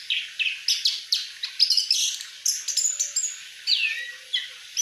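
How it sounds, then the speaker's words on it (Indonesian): An orange-headed thrush sings alone in a rapid series of bright, clear whistled phrases and chirps, loud and close, with short pauses between bursts. "Meskipun burungnya kurang jemur enggak apa-apa teman-teman, yang penting dia bunyi ya."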